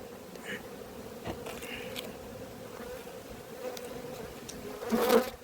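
A dense, steady buzzing of many honey bees close by at an opened hive in an apiary, with a louder swell near the end.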